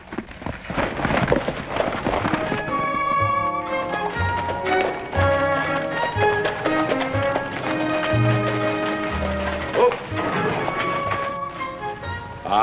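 Rhythmic clip-clop of horse hooves under busy music in a Western TV drama, steady trotting beats running throughout at moderate loudness.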